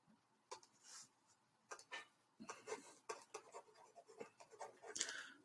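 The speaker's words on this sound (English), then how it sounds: "So let me write that" Handwriting for a geometry lesson, soft close scratching strokes of pen or marker coming in short irregular bursts with brief pauses, faint and without talk.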